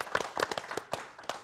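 Studio audience at an Indonesian political talk show claps in a short, uneven burst of separate hand claps, close and fairly quiet, with no voices over it.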